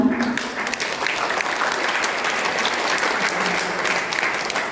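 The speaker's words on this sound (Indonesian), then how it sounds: "Tepuk tangan" An audience of college students at a civic outreach session in Buleleng breaks into steady, dense applause, loud and continuous throughout with no talk over it.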